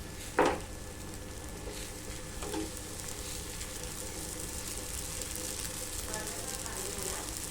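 Dosa batter poured onto a hot, unoiled griddle, a sharp initial hiss settling into a faint, steady sizzle that continues quietly throughout.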